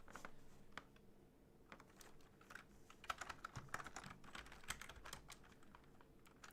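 Rapid clicking on a computer keyboard as a list is typed into a chat, bursts of keystrokes with brief pauses, faint and close against a quiet background.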